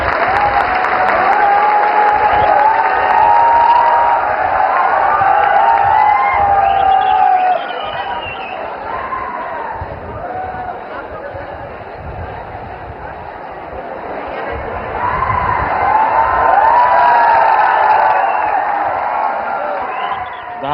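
An audience at a public event for Prime Minister Narendra Modi applauds loudly and continuously, with some cheering and crowd murmur, the clapping easing for a while midway before swelling again.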